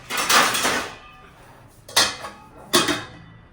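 Metal pots and pans being put away in a home kitchen, with three separate clattering, clanking bursts of cookware knocking together, loud and close, with quiet gaps between them.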